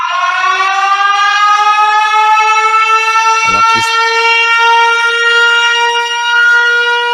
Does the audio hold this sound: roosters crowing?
no